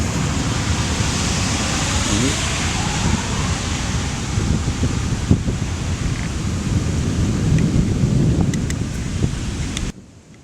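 A steady roar of wind and heavy rain buffets the microphone, with a low rumble of thunder underneath, cutting off abruptly at the end.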